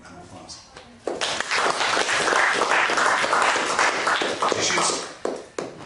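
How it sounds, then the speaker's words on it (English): An audience at a hypnosis demonstration breaks into a big round of applause, the clapping swelling abruptly after a soft start and holding steady before tapering off, with voices audible beneath it. "New big round of applause."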